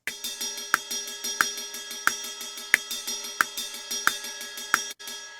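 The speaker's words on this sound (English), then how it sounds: "So if I click the play metronome during playback and all these selected" A step sequencer's metronome ticks at four steps per bar, a regular series of sharp clicks over a sustained synth tone, close and clear, with no talking.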